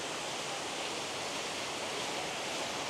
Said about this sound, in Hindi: उसके सामने जो है वो बिल्कुल वाटरफॉल है ऊपर सारा।